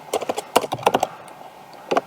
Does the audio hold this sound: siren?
no